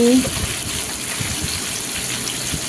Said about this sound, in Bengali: তো এবার আমি আলুগুলো ঢেলে দিচ্ছি ঢেলে নাড়াচাড়া করে লবণ দিয়ে দিচ্ছি